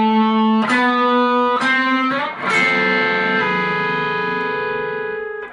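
Distorted electric guitar plays a slow two-note harmony part from a song, with a few picked chord hits sliding down a half step and ringing out loud and sustained to the end, no talking.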